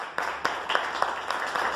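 Audience applause at a municipal event handing a donation of supplies to a workers' health cooperative in Cutral Co, Argentina: steady, fairly quiet crowd clapping with a few sharper accents, continuous throughout.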